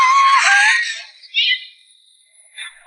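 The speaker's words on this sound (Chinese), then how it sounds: "尖叫开始" A Lego-built 'screaming machine' in a building competition launches to loud, close screaming at first, which fades into quieter bursts and brief high yelps over the following seconds.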